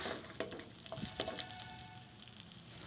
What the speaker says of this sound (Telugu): ఆయిల్ వేడెక్కిన తర్వాత ముందుగా వెల్లుల్లి వేసుకొని వెల్లుల్లి కొంచెం వేగనివ్వాలి